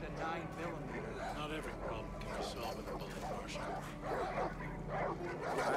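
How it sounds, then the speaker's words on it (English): Dogs bark and yip in Far Cry 5, set in rural Montana, with repeated mid-distance barks and whimpers running under steady talk throughout. "Lots of dogs and all this."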